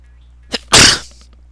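A single sharp sneeze, preceded by a short inhaled catch, loud and close, then quiet.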